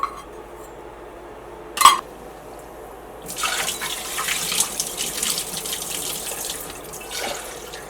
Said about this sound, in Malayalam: അങ്ങനെ നന്നായിട്ട് അരി കഴുകിയിട്ടെടുക്കുക